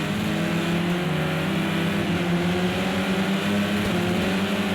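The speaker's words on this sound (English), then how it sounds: "as you hear them just revving these things out to get as much as they can" BTCC touring cars revving hard at the Knockhill race circuit, a loud, steady engine drone holding high revs throughout with no gaps, heard alone without voices.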